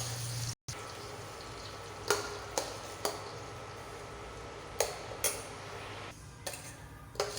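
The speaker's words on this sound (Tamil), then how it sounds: "கடாய் சூடானதும் எண்ணெய் சூடானதும் சோம்பு பொரிட்டதும் அரைச்ச வெங்காயம் விழுது" Ground onion paste fried in hot oil with fennel seeds in a kadai gives a steady, faint sizzle. A few soft clicks and taps are heard over it.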